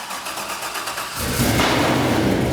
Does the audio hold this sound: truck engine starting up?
yes